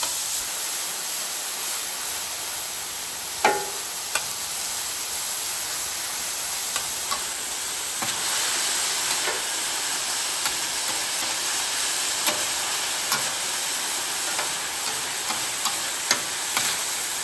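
Steak searing on a flat-top griddle for tacos, a steady broad sizzle and hiss running throughout with occasional sharper pops and crackles, close and continuous with no talking.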